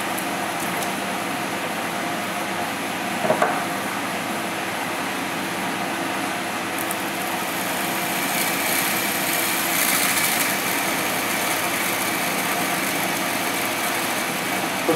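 A small DC motor runs steadily on a battery that is a little low, giving a continuous even whir with a brief tick partway through and a slight rise in intensity toward the end.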